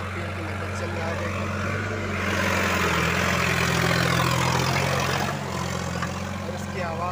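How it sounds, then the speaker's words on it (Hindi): A Sonalika DI RX 35 tractor runs steadily near 1500 rpm while pulling a loaded cultivator with full lift down, a deep continuous diesel drone that swells under strain mid-clip and then eases, loud and close. "इसकी आवाज़ से आप अंदाज़ा भी लगा सकते हैं कितना लोड बता रहा है ट्रैक्टर"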